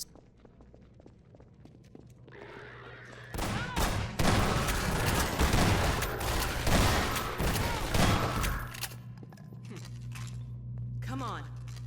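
Gunfire in the video game Black Mesa: a dense burst of rapid shots and impacts crashes in for several seconds, loud and close, then drops back to quieter game ambience.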